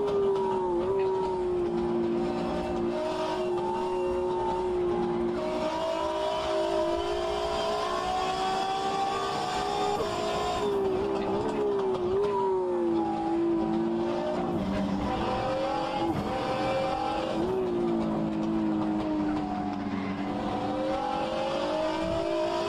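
Race car engine in the rFactor 2 sim racing game, Storm Gang Simulation mod, revving steadily through gear changes on a lap with occasional tire squeal, loud and continuous with no talk.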